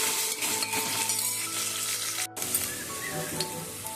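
Curry leaves and coriander crackle in hot oil for a tempering made with tomato rasam. The close, steady sizzle carries scattered utensil clinks and pan scrapes, with a brief gap near the middle.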